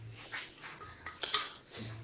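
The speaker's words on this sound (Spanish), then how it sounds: "Vamos a quitarle bien a la licuadora todo lo que se pueda." Soft scraping and light clinks of a utensil against a blender jar while emptying peanut butter cream gelatin mixture, a few scattered strokes at low volume in a quiet room.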